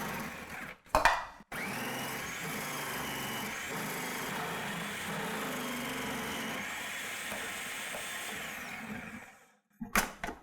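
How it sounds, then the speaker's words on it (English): Food processor grating fresh carrots, a steady high whirring motor drone lasting about eight seconds, bracketed by brief clunks of loading and stopping at start and end, no talk. "take these carrots and put them in the food processor"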